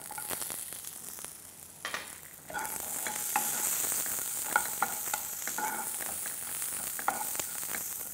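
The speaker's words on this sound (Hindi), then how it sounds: "गार्लिक, जिंजर, सब रफली चॉप बिकॉज इसे हल्का सा सौते करना है, और थोड़ी सी डाइस्ड कैरेट्स।" Garlic, ginger and diced carrots sizzle steadily in hot oil, with a broad frying hiss throughout and occasional sharper crackles and spoon scrapes over about eight seconds, no talk.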